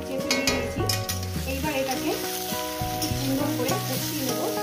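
Ginger paste stirred into spices frying in a pan for a fish-head chorchori, a steady sizzle with scraping spoon strokes, close and continuous under background music.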